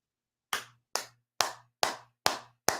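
Six sharp single hand claps at a slow, even pace, close and alone in silence, each with a short decay.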